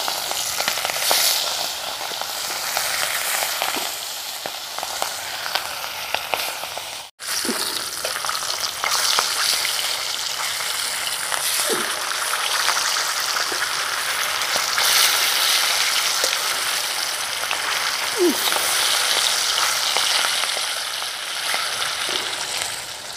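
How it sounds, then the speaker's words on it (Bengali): Hilsa fish frying in hot oil, giving a dense, continuous close sizzle and crackle that holds steady for the whole stretch, broken only by one sharp momentary dropout and a few small clicks. "তেল গরম হয়ে গেছে, মাছগুলো ভেজে নেব।"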